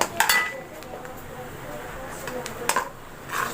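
A spoon clinks and scrapes against a pan while white cumin seeds are stirred into hot mustard oil for bhindi masala, a few sharp metallic taps over a soft background sizzle.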